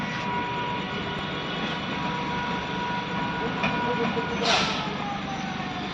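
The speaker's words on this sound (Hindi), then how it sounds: "मुंबई लोकल जैसी दिखने वाली ट्रेन" Rumble of an approaching train similar to a Mumbai local on an Indian Railways line, a steady low roar with a brief horn-like burst near the end, with people talking nearby.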